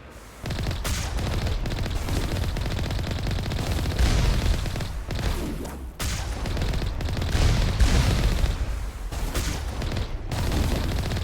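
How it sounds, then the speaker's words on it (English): A Geth Colossus firing in the video game Mass Effect, heavy sustained weapon fire with booming blasts and rattling bursts, loud and continuous with a brief break midway. "And here's a Colossus fire, I believe."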